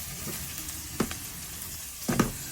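Squash stew with seasonings sizzles gently in a pan as it is stirred, with two soft scraping strokes of a utensil over a steady frying hiss.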